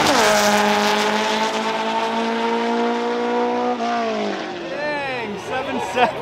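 A Volkswagen Beetle's engine roars at high revs at a drag race, holding a steady drone before the pitch drops and wavers as the car launches and pulls away.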